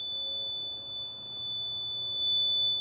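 Faint steady electronic buzzer tone ringing continuously from a wired circuit, a thin constant whine over quiet room hiss.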